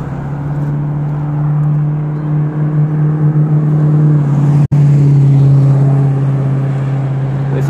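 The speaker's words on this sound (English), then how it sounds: "There's a car coming, but we should be fine." Car on an upstate New York road heard as a continuous loud engine hum close by, swelling and easing as traffic passes, with a sharp click partway through and no talking.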